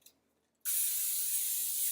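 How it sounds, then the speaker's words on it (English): Pam cooking spray hisses into the mesh basket of an AeroFryer air fryer, a single continuous close burst that starts abruptly after a brief quiet pause and holds steady to the end. "And then we spray it"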